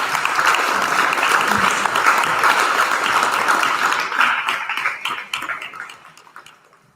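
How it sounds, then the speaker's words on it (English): Audience applause at a school awards day, a dense roomful of clapping that holds steady and loud for about four seconds before thinning out and fading away toward the end. "Please join me in a round of applause."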